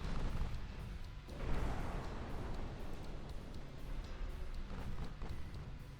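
Torpedo hits exploding against ships in the naval strategy game Ultimate Admiral: Dreadnoughts, a dense rumbling wash of distant booms and low explosions that swells briefly and then rolls on steadily.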